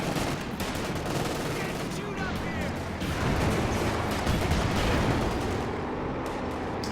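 Bazooka fire and an anti-tank grenade in a Company of Heroes 2 match against a Panzer IV, heard as dense, continuous battlefield gunfire and blasts under steady commentary voice.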